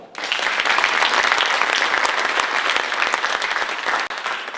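A crowd at a district candidates forum breaks into applause for a Democratic candidate, starting abruptly and holding a dense, loud clatter of many hands before a brief dip near the end.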